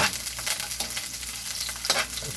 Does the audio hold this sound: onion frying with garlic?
yes